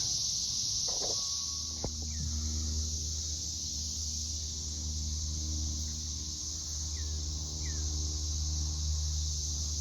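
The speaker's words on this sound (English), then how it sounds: "Y'all hear them cicadas?" Steady insect drone of cicadas outdoors fills the air, a continuous high buzzing with a low engine-like hum underneath and a faint brief tap, beside a 1990 OBS Chevy pickup.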